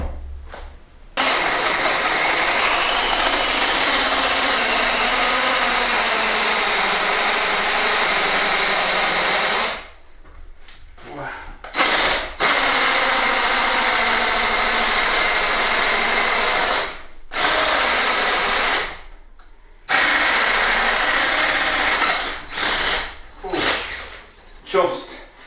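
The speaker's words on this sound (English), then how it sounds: "I'm going to try and drill through this" Power drill boring through the wall of an old hay loft, a loud continuous whine running in long bursts with short pauses and a few quick stop-start pulses near the end.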